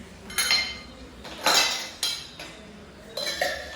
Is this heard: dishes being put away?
yes